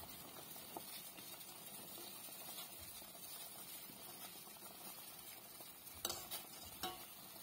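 Malunggay leaves stirred in a cooking pot with fish, a soft, steady scraping and sizzling close by, with a few brighter clinks of the utensil near the end.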